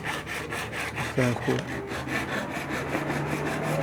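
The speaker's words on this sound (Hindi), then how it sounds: "ये आरी ब्लेड के साथ इसको काट देंगे।" A hacksaw blade cuts through the plastic housing of an LED bulb in a steady series of rhythmic rasping strokes, close up, with a brief spoken voice partway through.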